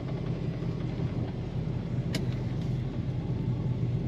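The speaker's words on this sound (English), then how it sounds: "Today we're driving a very fun 1970 Plymouth Roadrunner." A 1970 Plymouth Road Runner with a 440 engine and automatic transmission drives along, its low, steady engine rumble droning continuously and fairly quietly with no voices.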